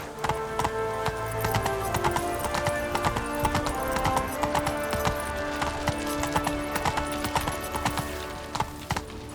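Roach, a horse in The Witcher 3, gallops in a fast, steady clip-clop of hooves that stays close and loud through the whole stretch, set over a dense game soundscape of music and ambience.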